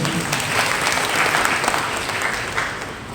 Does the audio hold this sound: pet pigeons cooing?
no